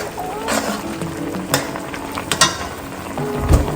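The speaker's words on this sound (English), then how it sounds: "Now I'm gonna go ahead and add in some butter." Butter hits a hot pan while stew pork cooks, giving a steady near sizzle with scattered scraping and clattering knocks of stirring and a thud near the end, with no talk.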